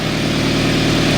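A Toyota Tacoma engine with an exhaust leak idles loud and close, a steady low rumble with a rapid, even ticking pulse running through it, no voices.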